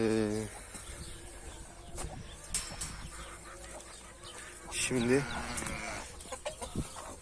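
Hens and young chicks cluck and chirp in a farmyard coop, with short bursts of clucking scattered through and someone talking quietly over them.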